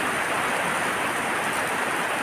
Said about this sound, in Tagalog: Grabe yung grabe yung ulan,